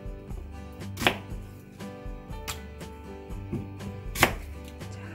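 Half an onion blitzed in a blender for radish kimchi seasoning, giving several loud, sharp bursts of whirring and chopping against a steady background of clattering kitchen noise, with no voices.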